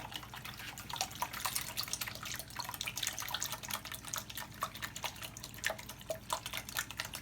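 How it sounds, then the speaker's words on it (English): Milk pours in a thin stream into beaten eggs in a mixing bowl for peach bread pudding, a steady close liquid splash and trickle with small drips, fairly quiet and alone. "And then you pour in the milk a little at a time."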